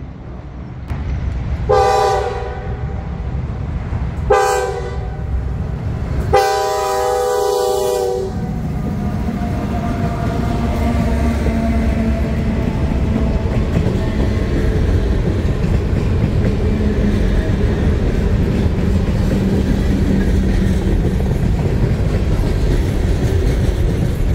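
A train horn sounds three times in short blasts as the train comes into Bridgewater, then the steady rumble and clatter of it rolling past continues at length, close and loud.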